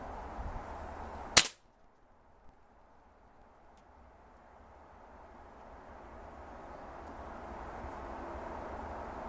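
A Beeman air rifle fires a single sharp crack at a target 25 yards away, followed by quiet outdoor background noise and a faint later tick.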